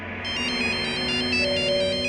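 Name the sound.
telephone ringing during call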